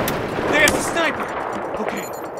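Gunfire from the shooter video game Battlefield, with sharp sniper shots cracking over loud battle noise while soldiers shout urgently over the gunfire.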